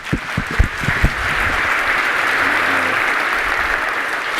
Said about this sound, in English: So round of applause for Eddie.